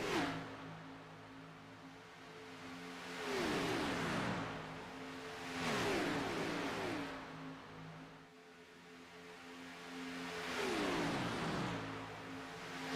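NASCAR Cup cars racing at Daytona, engines roaring in waves as packs sweep past, with rising and falling pitch and a steady drone between passes.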